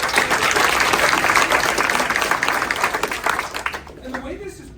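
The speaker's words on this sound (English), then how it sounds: "Give them a round of applause." Live audience at an improv comedy graduation show clapping, a dense, loud burst of applause that holds steady for several seconds and then tapers off, with a voice coming in at the end.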